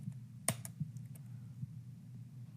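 Quiet typing on a computer keyboard, a few sparse, soft key clicks with one sharper keystroke near the start, close by in a still room.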